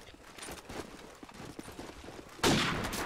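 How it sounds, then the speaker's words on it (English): Gunfire from a Call of Duty promod match on the Crash map: scattered faint shots through the first seconds, then a loud, sustained burst of fire near the end, with no speech. "Just a bouncing scope shot onto Goofy"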